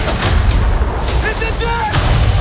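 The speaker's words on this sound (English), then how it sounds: "Cannon!" Cannon fire in a pirate ship battle: loud, dense booming blasts through the whole moment, with shouted voices and clatter mixed in.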